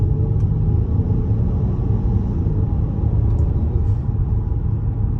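A 2022 Acura MDX SH-AWD accelerating at light throttle, a steady low engine and road rumble heard from inside the cabin, smooth and continuous with no talk.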